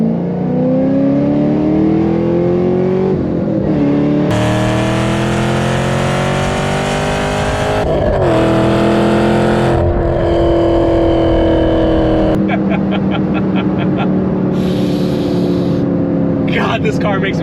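Chevrolet Camaro ZL1, a fifth-generation model, accelerating hard through several gear shifts, its loud engine roaring and climbing in pitch with brief breaks between pulls, close and dominant throughout.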